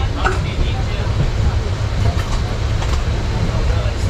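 The 12883 Rupasi Bangla Express rumbles along the track, a loud continuous roar with faint rhythmic clatter heard from inside the moving train.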